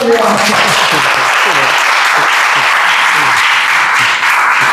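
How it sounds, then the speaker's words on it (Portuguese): An audience gives loud, continuous applause for a speaker at a museum discussion event, with voices briefly audible at the start under the clapping. "Dê uma salva de palmas para ele."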